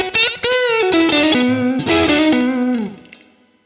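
An electric guitar through a Boss Katana amplifier plays a short run of notes drenched in reverb and delay, the final note ringing out and fading into echoing tail.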